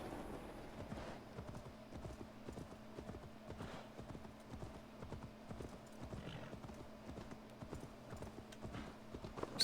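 Steady clip-clop of horse hooves at a brisk, even trot in Assassin's Creed Valhalla, fairly faint and continuous throughout with no talking.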